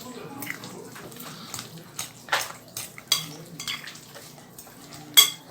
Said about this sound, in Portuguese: Dá uma mexida para misturar.